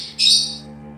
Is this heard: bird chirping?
yes